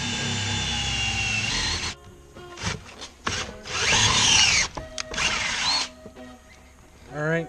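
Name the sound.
power drill drilling through truck front panel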